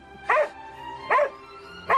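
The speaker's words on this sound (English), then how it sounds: "Where's the dog?" A dog barks three times at an even pace, each bark short and fairly close, with a faint steady hum between them.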